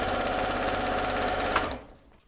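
Sewing machine stitching the side seam of a child's dress, a steady fast mechanical whir running loud and close for about a second and a half before stopping abruptly.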